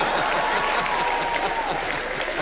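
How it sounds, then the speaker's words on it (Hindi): A television comedy show studio audience claps in a dense, steady burst of applause, loud and continuous throughout, with a faint voice beneath the clapping. "उनके साथ मिलकर तालियां बजा रहे हैं आप?"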